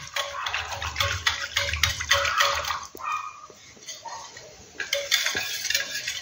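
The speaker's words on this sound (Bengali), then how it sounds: "বেসনটা ভালো করে মিক্স করে নিতে হবে যাতে এখানে গুটলি না থাকে।" Gram flour (besan) batter for Rajasthani kadhi is whisked in a bowl, producing rhythmic scraping and sloshing strokes up close, with a short pause midway before the mixing resumes.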